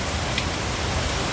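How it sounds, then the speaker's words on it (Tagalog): Steady rain pours down in the Benguet mountains during the monsoon, a dense even hiss with no break across the short stretch and no voices. "At pabugso-bugso pa rin yung ulan dito sa Benguet at sa ibang parte ng Luzon."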